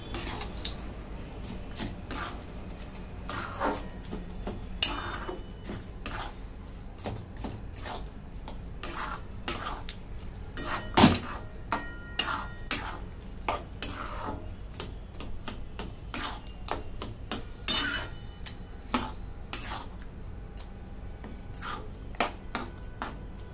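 Carrot halwa with jaggery being stirred in a pan: a steady run of sharp spoon clicks and scrapes against the metal, close and irregular, with no voices.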